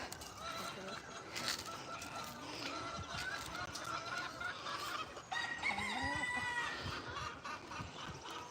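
Chickens at a farm sanctuary cluck and crow throughout, a busy barnyard chorus of overlapping calls close by, with a rooster's crow rising above the steady clucking and ambient outdoor noise.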